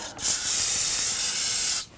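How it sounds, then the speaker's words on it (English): A steady, loud hiss of an aerosol can spraying solvent in one continuous burst of nearly two seconds, close by, with no talking, while cleaning the rear brakes of a 2013-2019 Ford Interceptor Utility. "I want to go ahead and use some spray solvent"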